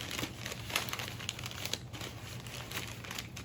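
Newspaper is crumpled and shaped around a cup and paper towel to make a puppet head, giving quiet, continuous crinkling and crackling with sharper rustles scattered throughout.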